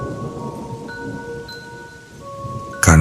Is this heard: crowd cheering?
no